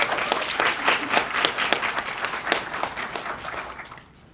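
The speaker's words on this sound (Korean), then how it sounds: "긴장이 놀라서 달아날 정도로 크게 박수" Loud, sustained applause from a demo day audience, dense clapping filling the room for about four seconds before fading out at the end.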